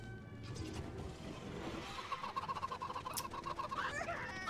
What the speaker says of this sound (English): Chickens! Gotta love chickens.